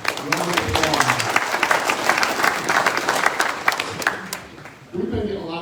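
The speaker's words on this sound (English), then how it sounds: "let's give Farms Park a big round of applause" A public meeting audience at Farms Park claps in a sustained, dense round of applause that fades near the end, giving way to room noise and a voice.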